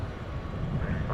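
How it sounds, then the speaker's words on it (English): A 9-year-old Airbus A321 airliner arriving from St. Louis at DFW gives a steady low engine rumble, distant and even, with no break. "coming in from St. Louis on an Airbus A321"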